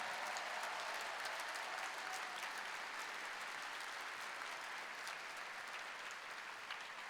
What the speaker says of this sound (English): let's give a big round of applause for all those students